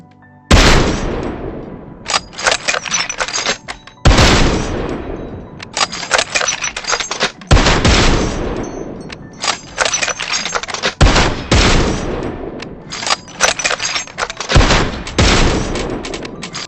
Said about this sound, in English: I'm comparing Mosin Nagant's rate of fire next to the Kar-98k to show you the difference